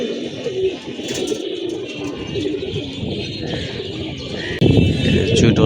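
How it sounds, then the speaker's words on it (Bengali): Pigeons coo and flutter as they come in to land, soft throaty calls mixed with wing rustling and outdoor background noise, growing a bit louder near the end. "এই যে কবুতরগুলো ল্যান্ডিং টাইম হয়ে আসছে,"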